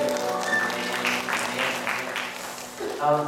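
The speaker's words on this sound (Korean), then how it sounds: "하나님의 감사의 박수가 드립니다." A church congregation applauds at the close of a Sunday worship service, a brief burst of clapping mixed with voices and some tonal sound, ending as a voice rises near the end.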